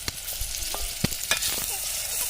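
Onion and tomato frying in oil in a pan, a steady close sizzle with a few sharp clicks and stirring scrapes, no voices.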